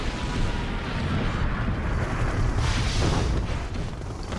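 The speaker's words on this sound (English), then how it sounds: "Warning, nuclear missile launched." A nuclear missile explodes in a Red Alert-style strategy game, heard as a sustained, loud rumbling roar with a surge of blast noise partway through. No speech is heard.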